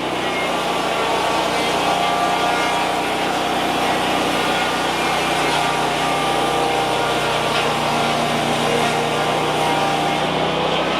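A portable sawmill blade runs through spruce siding on a bevel cut, a steady loud engine whine with a sustained cutting drone that holds evenly from start to finish.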